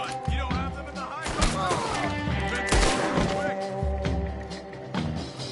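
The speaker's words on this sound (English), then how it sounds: "What are those guns they have?" Gunfire in a Red Dead Redemption 2 firefight, with bursts of shots and crashes running continuously through the scene under in-game music and occasional voices.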